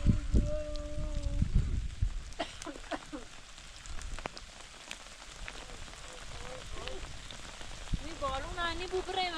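Rain falls steadily on a rural family home, a constant patter that continues throughout while voices talk over it.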